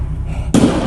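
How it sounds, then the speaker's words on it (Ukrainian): A single loud, sudden blast from street fighting in Kharkiv during the Russian war in Ukraine cuts through low rumbling and leaves a roaring wash of noise behind it, very near. "у нас стреляют"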